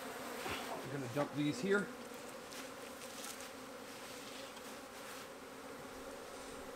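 Swarm of honey bees, mostly workers, a dense steady buzzing hum throughout, with a brief spoken remark early on over the swarm.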